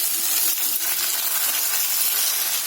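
Ginger, garlic and ripe red chilli paste hits fried onions in a pan for mutton curry, giving a steady, bright hiss and sizzle that holds evenly at close range with no talking.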